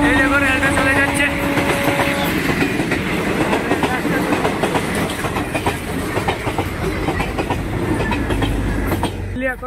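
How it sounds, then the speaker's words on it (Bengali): A train passing close by: a loud, steady rumble with rhythmic clickety-clack and rattling of wagons throughout, with faint voices beneath. "এই দেখো রেলটা চলে যাচ্ছে"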